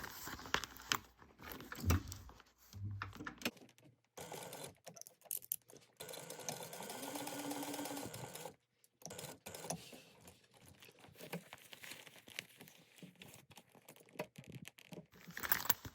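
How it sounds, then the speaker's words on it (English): A sewing machine stitches a gusset onto a crossbody bag in a sustained run of a few seconds, fairly quiet and close, with rustling and handling of fabric before and after. "now you're going to sew these down at 1/8 of an inch"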